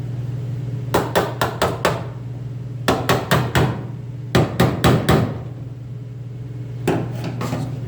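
A cheap chisel is hammered while notching the steel frame of a 1964 Chevrolet Biscayne, sharp metallic blows in close quick bursts of four or five strikes, with pauses between groups over a steady low hum.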